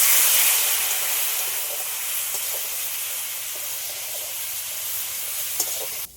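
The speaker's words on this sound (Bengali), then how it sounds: "অল্প করে একটু জল দিয়ে দিচ্ছি" Water poured into a hot pan of frying spices and curry leaves sets off a loud, steady hiss of steam and sizzle that fades slightly over several seconds, close by.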